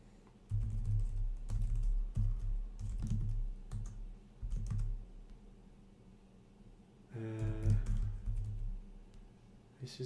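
Bursts of typing on a computer keyboard while a Go function is written, close and clear, with clusters of key clicks broken by pauses and a stretch of speech partway through.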